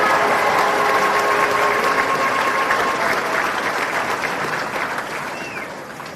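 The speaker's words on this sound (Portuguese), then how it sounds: "isso merece palmas" Studio audience applause at the opening of a podcast episode, a loud, steady, dense clapping that holds strong before gradually fading toward the end.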